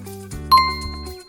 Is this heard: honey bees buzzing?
no